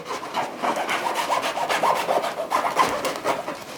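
A knife saws through a loaf of ordinary bread for a salami and kaşar cheese sandwich, producing close, rhythmic rasping strokes at a quick, steady pace, with no one speaking.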